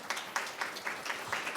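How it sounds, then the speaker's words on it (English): An audience applauds a presenter at a talk, a brief burst of scattered hand clapping with distinct claps at a rapid, uneven rhythm, moderately distant in a room. "can you give Laura a round of applause,"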